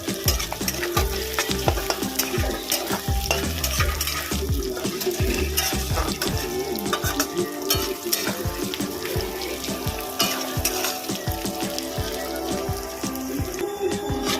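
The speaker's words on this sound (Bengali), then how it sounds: "আমি এর মধ্যে দেব কাজু বাদাম এটা ভালো করে ভেজে নেব" Cashew nuts fry in a pan with onion, ginger and garlic, giving a constant close sizzle broken by frequent scraping and stirring strokes of a spatula throughout, with no talk.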